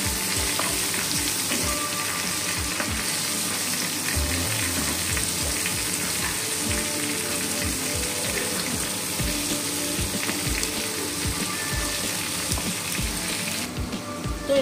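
Ginger-garlic paste, salt and coriander powder sizzle and fry in a pan while being stirred, a steady close crackle with regular scraping strokes throughout.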